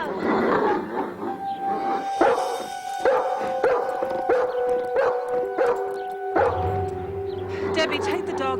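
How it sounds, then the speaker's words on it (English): A dog named Guido, kept at a cottage, gives a series of drawn-out howling barks in an indoor domestic scene, about seven sustained calls spaced roughly a second apart, with people talking around it. "Debbie, take the dog away, please."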